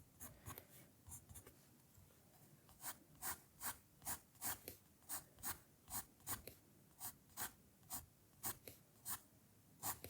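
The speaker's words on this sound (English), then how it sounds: "I'm using my pencil on its side so I don't get a really sharp mark like that." Graphite pencil held on its side shades across paper in a drawing lesson, a quiet, steady series of soft rhythmic strokes, close and alone.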